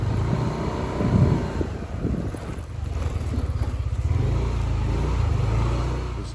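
Motorbike climbing a steep jungle hill in Thailand, a steady low engine drone with a brief surge early on that settles into a continuous rumble near the rider, wind noise mixed in, no talk.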